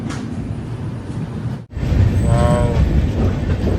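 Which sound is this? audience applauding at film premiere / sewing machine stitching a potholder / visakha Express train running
visakha Express train running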